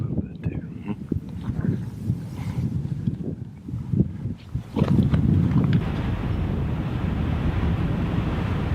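Strong desert wind in Mexican bighorn country gusting across the microphone as a heavy low rumbling buffet, with someone talking over it at first before the wind roar takes over.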